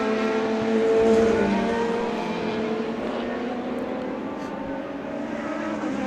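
SuperSports race cars roar past at Sydney Motorsport Park, engine notes rising and then fading as the pack passes at a distance, with no talk over them.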